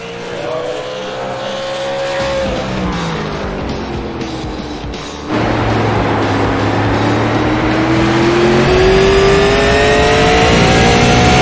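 Loud race car engines in the iRacing simulator roar and rev continuously, pitch rising and falling through gear shifts, with a second engine note joining partway through.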